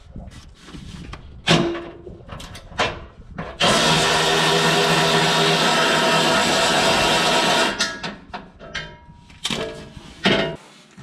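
Power tool spinning off 14 mm skid pan bolts under a 2026 Honda Passport Trailsport, one long steady whir of about four seconds between shorter clanks and tool handling, close and loud.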